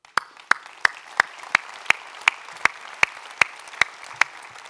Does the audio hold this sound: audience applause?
yes